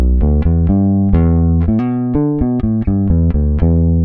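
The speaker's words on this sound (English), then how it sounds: "there's some phase happening. Sounds like I'm plugged into a chorus or a phaser pedal." Clean electric guitar notes and chords played in a steady rhythm, with a swirling, hollow phaser-like shimmer from two signals partly cancelling each other.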